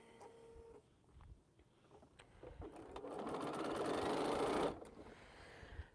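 A domestic sewing machine stitching quilt rows together, starting with a few light taps, then running steadily for a couple of seconds before stopping, at moderate loudness with no talking.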